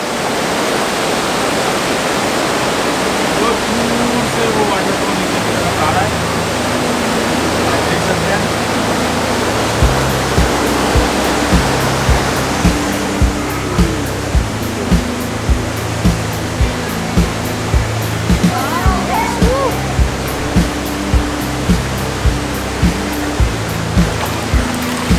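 Jogini waterfall near Manali roars as a loud, steady wash of falling water, with faint rhythmic tapping sounds joining partway through.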